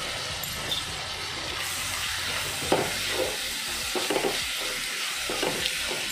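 Finely chopped onion for a Goan black chana and potato gravy sizzles in hot oil, with a steady hiss broken by irregular stirring scrapes and clatters close by.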